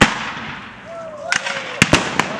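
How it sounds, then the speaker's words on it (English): A cannon fires at a Civil War reenactment: one sharp blast opens the clip, followed by several more short cracks and pops trailing off, fairly loud and outdoors. "oh, that was a good cannon shot."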